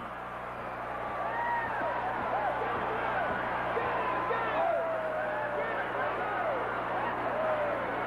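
A roaring 1984 Mid-South Wrestling arena crowd during a tag-team match: a steady wash of cheers and hubbub throughout, with a commentator talking over it.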